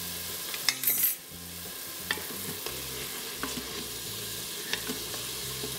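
Onions frying and being stirred in an Instant Pot for beef curry: steady close sizzle with intermittent scraping and clinking of a spoon against the metal pot, no voices.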